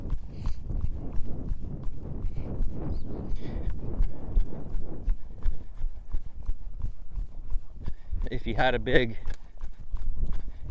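A colt's hooves clop along the fence line of a big arena in a steady walking rhythm, fairly close, while someone talks over the hoofbeats throughout.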